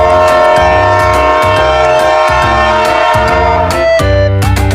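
A toy train plays its electronic chugging tune with horn-like tones, loud and close, the pattern repeating in short bursts.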